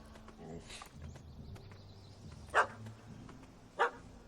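A dog barks twice in The Witcher 3 video game, two short sharp barks over a low ambient game soundscape, moderately distant and a little more than a second apart.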